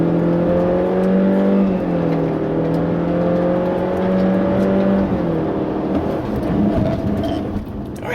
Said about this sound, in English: going to do 0 to 60 now in the Civic Turbo with the CVT transmission